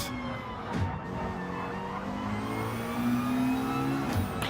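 Several race cars in a GT sim racing game fight for second place, engines droning and rising in pitch together as they rev, one McLaren among the pack, steady and fairly loud throughout.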